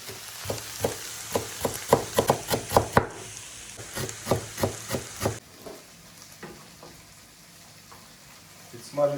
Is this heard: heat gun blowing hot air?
no